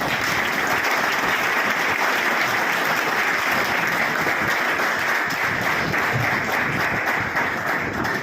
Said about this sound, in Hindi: एक बार फिर से जोरदार तालियों से एक बार धन्यवाद कर दीजिए।